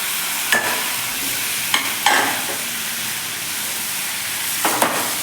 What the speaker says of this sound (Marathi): आता आपल्याला हे टोमॅटो आहे ते घालून घ्यायचे आहेत